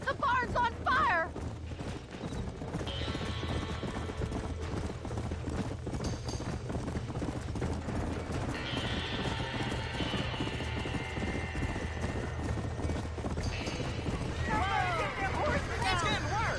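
Horses caught in a burning barn in Red Dead Redemption, with clip-clop hooves and whinnies rising over a steady roar of fire and commotion, shouting voices heard throughout.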